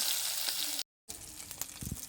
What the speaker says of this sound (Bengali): মাছের মাথাটাকে ভালো করে ভেজে নেব